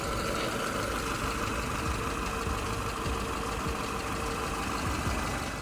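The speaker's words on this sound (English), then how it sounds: "The engine sounds good." A Peugeot 207 car, just repaired for a slipping clutch, idles steadily with a constant low engine hum and a soft hiss, heard alone without talk.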